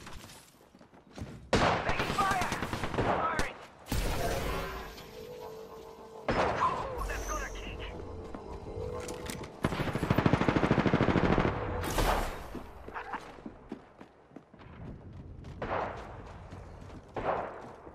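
Video game gunfire crackling in several loud bursts, with sustained rapid volleys and sharp shots separated by brief pauses, and voices shouting over it.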